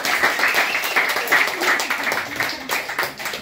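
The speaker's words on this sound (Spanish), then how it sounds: "Un aplauso, por favor." A crowd at a baby shower in Masatepe applauds, a steady, close clatter of many clapping hands for a few seconds with voices mixed in.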